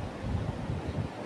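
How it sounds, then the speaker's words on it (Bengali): Sea wind blows across Mandarmani beach with low surf rumbling beneath, a steady breezy roar buffeting close to the microphone, with no speech. "সমুদ্রের হাওয়া গাইজ"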